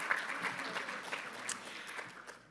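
Audience applause after a conference presentation, a steady wash of clapping from a crowd that holds for a couple of seconds and tapers slightly toward the end.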